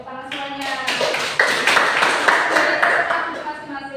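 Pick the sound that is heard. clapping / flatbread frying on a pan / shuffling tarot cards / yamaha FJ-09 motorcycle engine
clapping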